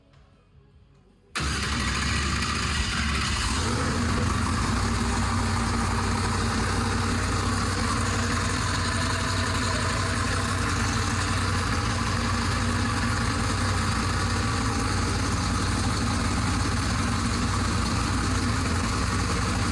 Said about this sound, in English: cold start. Haven't even put a battery charger on this thing. Let's see if it fires on alcohol.